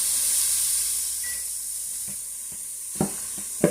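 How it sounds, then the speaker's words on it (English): Vegetables sauteing in a pot for an oxtail dish, a steady close hiss of frying with a few soft knocks and scrapes of stirring near the end. "I'm going to put the vegetables in this pot so that I can saute my vegetables."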